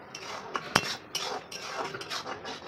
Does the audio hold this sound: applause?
no